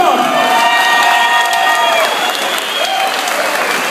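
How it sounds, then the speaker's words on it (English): Crowd at a semi-professional mixed martial arts event applauding and cheering both fighters after a bout, a loud, dense, sustained roar of clapping with whoops and shouts throughout. "give both fighters a huge round of applause"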